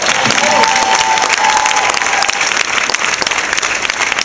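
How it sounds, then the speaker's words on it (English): Audience applause at a cancer event, dense steady clapping from a crowd that stays loud throughout, with a brief voice or whistle early on. "Give him a round of applause."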